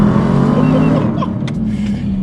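A BMW M850i in Sport Plus mode on an empty road accelerates hard, its V8 droning loudly from the cabin with a brief gearshift break midway, then pulling on strongly.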